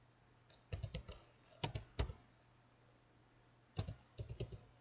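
Someone types a command into the command line of ARES CAD software on a computer keyboard. Short clusters of crisp keystrokes sound up close, separated by quiet pauses.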